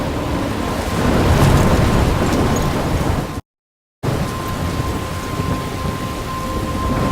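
A loud, steady thunderstorm in the video game Life is Strange, with heavy rain pouring down and thunder rumbling. The sound cuts out briefly to complete silence, then the storm resumes.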